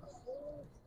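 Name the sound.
Giribaz pigeons cooing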